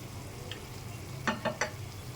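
Hilsa pieces stirred through a mustard masala in a pan, with papaya added to the dish: a few quick, close scraping strokes come in a short burst over a faint, low background sizzle.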